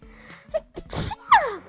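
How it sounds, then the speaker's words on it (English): A single close, loud human sneeze from a streamer, preceded by a couple of short, sharp breathy catches before the explosive burst and a brief trailing exhale. "No, I have to sneeze."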